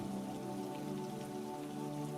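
Gentle rain falls steadily, a soft continuous patter of drops on surfaces, even and unbroken throughout with no voices.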